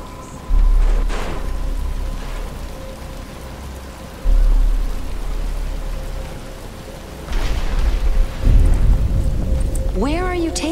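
Rain beginning to fall in the video game Batman: Return to Arkham Asylum, a steady hiss of rainfall with low rumbling surges, a faint tone and voices.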